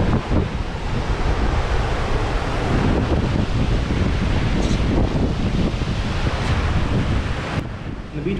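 Surf at N4 Beach in Chennai, continuous loud crashing and washing waves heavily mixed with wind buffeting the microphone.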